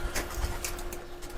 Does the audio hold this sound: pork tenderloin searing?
no